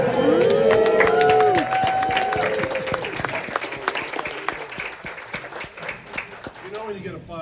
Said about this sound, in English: You know when you get applause for saying wow.